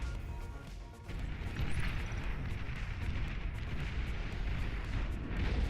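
Long-range plasma cannons firing in the strategy game Beyond All Reason: a dense, continuous barrage of booming, crackling blasts that overlap without a break, heard at a moderate, distant-sounding level.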